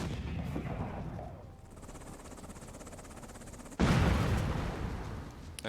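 Heavy artillery fire in the war game Afghanistan '11, a steady rumbling barrage of booms with a sharp, loud blast hitting near the end, alone without talk.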